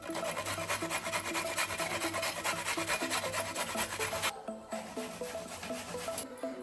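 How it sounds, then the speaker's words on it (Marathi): Fresh coconut being grated by hand for a sweet modak filling, a continuous close rasping scrape in quick regular strokes that thins out briefly near the end. "नारळ स्वच्छ करून घेतलेला आहे आता चांगला किसून घ्यायचा"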